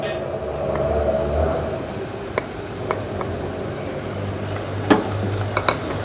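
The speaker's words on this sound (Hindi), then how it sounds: "अब इसको 30 सेकंड तक हम इसमें फ्राई करेंगे। लहसुन अदरक को 30 सेकंड फ्राई करने के बाद" Chopped garlic and ginger frying with onions in a pan, a steady close sizzle with occasional stirring scrapes and a few sharp clinks, no voices.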